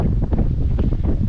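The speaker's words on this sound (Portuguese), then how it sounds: "se o vento deixar. Olha como que ele açoita." Strong wind gusts through a canyon in the southern Brazilian highlands, buffeting the microphone with loud, continuous roaring. There is no talking.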